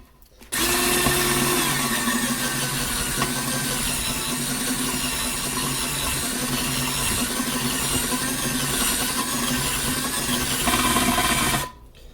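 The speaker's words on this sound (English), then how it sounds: "My hand's hurting from holding that drill." A power drill whines steadily for about eleven seconds, loud and close, with a grinding edge as the bit slowly bores a widening hole while building an electric smoker.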